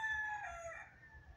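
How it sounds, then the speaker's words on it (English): Roosters crow faintly in the distance, one drawn-out cock-a-doodle-doo rising and falling over about a second against quiet background noise. "Excuse me for the roosters."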